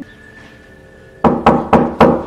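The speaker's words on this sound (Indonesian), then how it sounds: "tiba-tiba dengan sangat ajaibnya, Johanna pun datang mengetok pintu kamarnya" Four sharp knocks strike a bedroom door in an even rhythm, close and loud, following a quiet stretch of low room hum.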